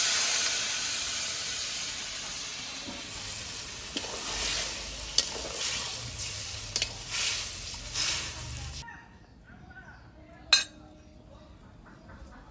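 Goat meat curry simmering in a pot after water is added, with a broad hiss and bubbling, scattered clinks of a spoon against the pot, then quieter after the sizzle drops away and one sharp knock.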